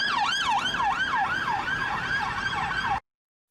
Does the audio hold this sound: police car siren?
yes